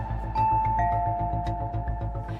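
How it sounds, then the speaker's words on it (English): A doorbell chimes in a home, sustained ding-dong tones ringing out over a steady low rhythmic hum, moderately loud and without talk. "And I heard the bell ringing."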